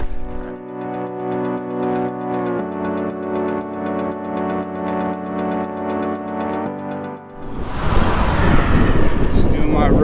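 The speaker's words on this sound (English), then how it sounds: "Bunch of cars passing, no real shoulder." On a New Mexico road with no shoulder, a steady droning hum from passing traffic runs for several seconds, then one car rushes by close and loud in a burst of wind and road noise.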